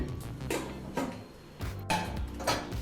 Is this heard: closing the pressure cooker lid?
yes